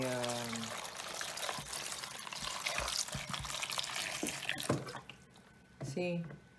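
Water pours steadily into a bowl holding cucumber and round cherry tomatoes, a continuous trickling splash close by, with a voice speaking briefly at the start and again near the end.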